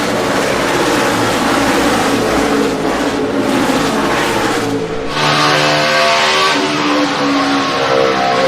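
NASCAR stock cars race at Dover in 2012, a loud dense roar of several engines blending together, with a brief dip and a shift in pitch as the pack sweeps past.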